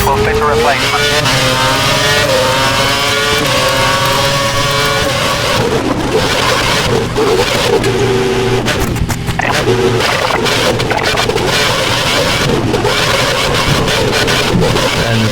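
A Formula 1 car in the F1 2011 game, racing in China with a lost front wing, screams continuously at high revs, engine pitch rising and shifting through gears, loud and close, with a voice talking over it.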